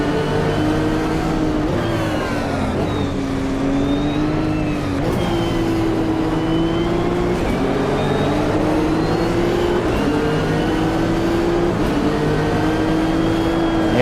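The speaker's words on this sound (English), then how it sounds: "GTR sounds like I expected a GTR to sound." Nissan GT-R race car engine in a racing sim game, revving continuously with rising and falling pitch through gear changes, loud and close for the whole stretch without talk.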